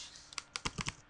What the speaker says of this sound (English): I'm just typing up really quick.